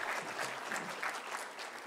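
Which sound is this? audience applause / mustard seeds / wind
audience applause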